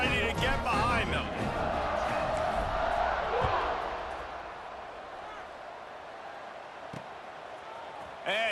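A stadium crowd in the College Football 26 video game roars before kickoff, loud and sustained at first, then thinning to a lower murmur, with a commentator talking over it.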